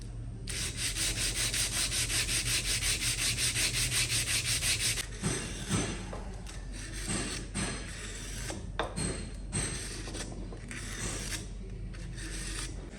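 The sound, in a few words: sanding plastic fin box flange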